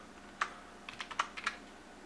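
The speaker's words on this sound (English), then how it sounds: "typing with one hand." Someone types one-handed on a computer keyboard at a DOS command prompt, producing about seven quiet, close key clicks in an uneven rhythm: one isolated tap, then a short irregular cluster.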